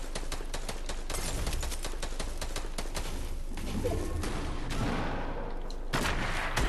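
Video game gunfire, rapid continuous bursts of shots and crackling fire, loud and dense from start to finish with no clear pauses.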